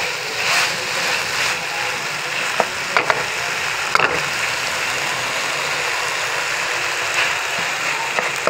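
Chicken samosa filling masala with cabbage, onion, lemon and roasted crushed cumin sizzles steadily in a pan, a constant close frying hiss punctuated by occasional scraping stirs and clicks, with no talk.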